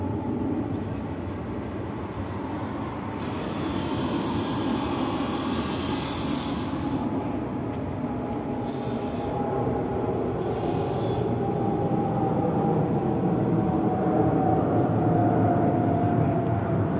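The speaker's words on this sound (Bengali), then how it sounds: "এটা সোহার বিমানবন্দর থেকে ফ্লাই করছে" A Dubai-bound airliner taking off from Sohar airport produces a constant loud roar with a high whine that slowly rises in pitch. The sound holds at steady strength throughout, with no voices.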